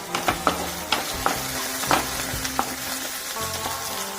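Curry leaves and green chillies frying in hot oil for pepper chicken, a steady close sizzle broken by sharp crackling pops and spits, with no talk.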